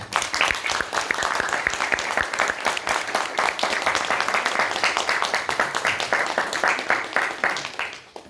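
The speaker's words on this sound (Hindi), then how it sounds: "एक बार हमें अपनी तालियों से बताइएगा" A theatre audience applauds after the stage play "Pati Chahiye" by Surya Theatre Cultural Arts Society in Lucknow, with dense, steady clapping that holds loud and even for about eight seconds and then cuts off.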